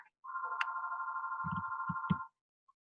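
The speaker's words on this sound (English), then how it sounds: "so go answer your phone" A phone gives a steady electronic ring lasting about two seconds, fairly quiet and unbroken, with a few low thumps over its end.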